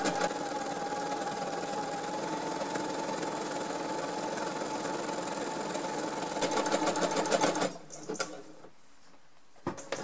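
A sewing machine with an 80 needle runs steadily while stitching a two-fabric curtain from recycled textiles, a close, continuous mechanical whir that stops abruptly near the end, leaving a few faint handling clicks.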